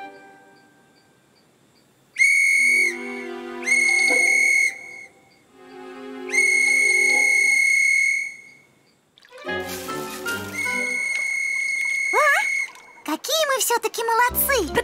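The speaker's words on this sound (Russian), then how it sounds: "вам нужно посвистеть" Loud, clear whistling from a cartoon sounds in several sustained bursts separated by short pauses, then gives way to trickling, squeaky effects and a brief rising squeal.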